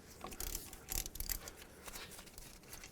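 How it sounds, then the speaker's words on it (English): Ratchet with a 14mm socket loosening caliper bracket bolts on a 2003-2007 Nissan Murano, quiet clicking and turning strokes in a few short bursts, close by with faint background noise. "14mm socket, remove both of these 2 bolts."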